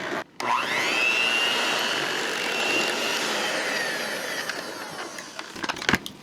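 An electric hand mixer on its lowest speed whisks a carnivore batter, a steady close motor whir with a scraping texture that starts abruptly, runs for several seconds and ends with a few bumps and clatters.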